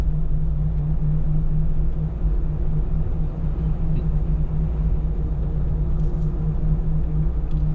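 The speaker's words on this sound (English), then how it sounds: "So now you can hear the tire noise now that the wind noise is gone." Road noise from 40-inch tires on a daily-driven vehicle heard from inside the cabin, a loud steady low drone and rumble with no breaks and no voices.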